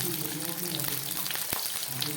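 Capsicum hits a hot frying pan and sizzles in a steady, close crackle, with a few sharper pops.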